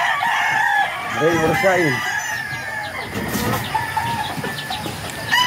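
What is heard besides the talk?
pet chickens clucking and a rooster crowing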